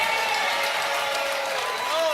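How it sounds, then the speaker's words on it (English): Studio audience on a daytime talk show booing and jeering: a dense, sustained crowd roar holding steady at close range for the whole stretch, with mixed voices blended into the noise. "Why is the crowd booing?"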